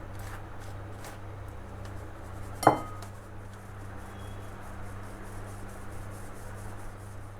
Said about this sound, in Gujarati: તો આ રીતે ખાંડને ચાળી લઈશું